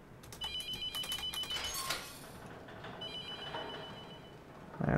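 An office telephone in The Mortuary Assistant video game rings on and on without being answered, a loud repeating electronic trill in bursts that are close and clear, followed by a lower hum.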